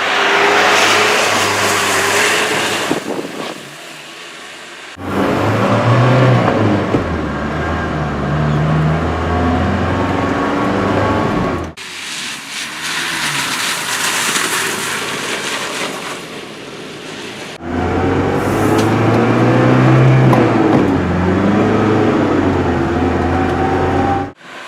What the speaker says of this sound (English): it's slow and loud and a little chilly, but just watch me go down the road